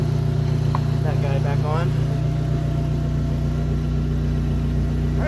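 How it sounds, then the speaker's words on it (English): A 2004 Dodge Neon SRT-4 engine idles steadily after a lifter replacement, giving a constant low hum close by, while someone talks briefly over it. "I'm going to let this idle for about 10 minutes"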